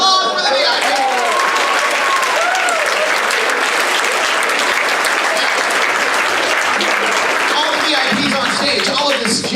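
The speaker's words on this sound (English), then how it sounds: "Applause for the VIP." An audience applauding for a VIP at a hypnosis show, with dense, sustained clapping and some voices mixed into it, tapering slightly near the end.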